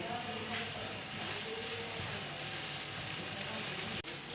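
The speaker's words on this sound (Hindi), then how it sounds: "प्याज को 1 मिनट हो गया है फ्राई करते हैं" Onions, green chillies and tomatoes fry in a pan for noodles with eggs, giving a steady, fairly quiet sizzle that stays even throughout, with no talking.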